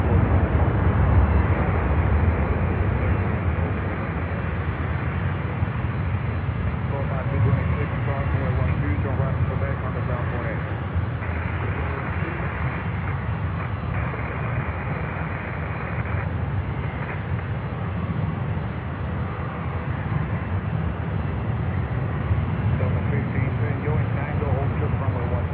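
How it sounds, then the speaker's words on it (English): A Kalitta Air cargo jet lands on runway 9 at Miami, its engines a steady, broad, distant roar that holds for a long stretch with no distinct peaks. "Kalita most likely comes in on runway 9."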